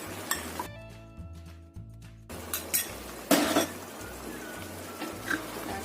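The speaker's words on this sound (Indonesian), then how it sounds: "Ini kita aduk dahulu biar tercampur rata" A utensil stirs Padang-style crab sauce thickened with cornstarch slurry in a pan, giving quiet, irregular clinks and scrapes of metal on the pan with a few sharper knocks, close but soft.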